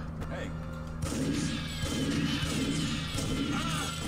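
A sudden, sharp crash of breaking glass bursts out about a second in, amid loud gunfire and action noise in the Wild West level of Timesplitters 2.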